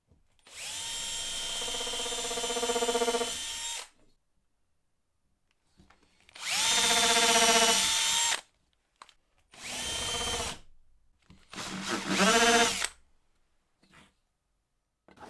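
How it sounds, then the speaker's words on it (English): A power drill whines loudly in four separate bursts, drilling and countersinking holes, revving up and cutting off with quiet pauses between each hole. "drill a couple of holes in either end and get them countersunk"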